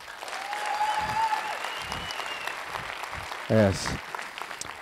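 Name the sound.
audience applause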